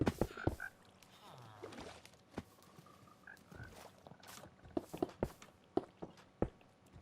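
Frogs croaking inside a glass enclosure in the Minecraft video game, a series of short, fairly close croaks scattered irregularly over several seconds alongside soft game ambience and light footstep-like taps.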